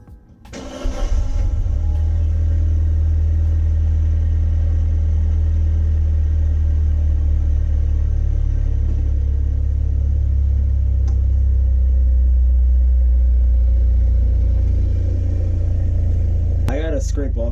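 A B7 Audi A4 sitting on lowered coilovers cranks and fires up, then settles into a loud, steady, deep engine rumble held close for the rest of the stretch, with a brief sharper noise at the very end.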